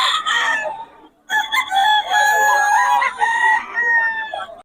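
Several roosters crow loudly and close together at a Bocaue tiangge market, overlapping calls with some clucking and a brief pause between bursts.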